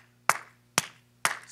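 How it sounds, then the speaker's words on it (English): Three sharp single hand claps, evenly spaced about half a second apart, each crisp and close with a quick decay, with no talking. "A clap"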